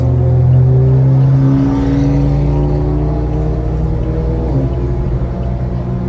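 Toyota Innova biturbo car accelerating hard, a loud, close engine roar with rising and falling tones from revving through the gears, continuous throughout with no talking.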